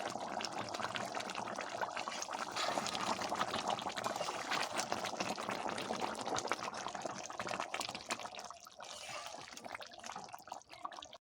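Water is poured into a simmering Bengali prawn and pointed gourd (potol) dorma curry. A continuous splashing pour runs for several seconds, then eases into a quieter bubbling, heard close with no speech.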